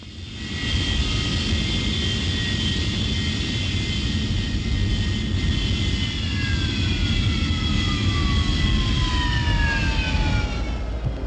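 MiG-21 and MiG-23BN jet fighters of the Czechoslovak air force, 1980, running their engines on the ground: a loud, steady jet roar with whining tones that slowly fall in pitch, continuous throughout with no talk.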